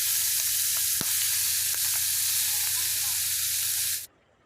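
Washed, drained meat fries in hot oil with a bay leaf, a dried chili and whole cumin, a loud continuous sizzle with a few sharp crackles that cuts off abruptly near the end.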